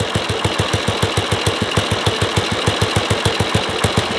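Royal Enfield Bullet single-cylinder motorcycle, around 2001–2003, back running after sitting five years: a loud, even thumping idle with regular beats close by.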